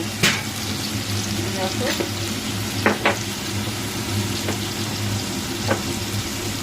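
Spice paste (masala) frying while being sautéed in a pan during fish curry cooking: a steady, moderate sizzle with a low hum underneath and a few sharp spatula scrapes or clicks scattered through. A single brief spoken word is heard.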